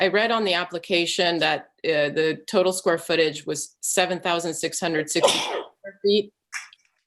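A single brief sneeze cuts through an East Hampton Town architectural review board meeting, heard amid nearly continuous close-miked talking.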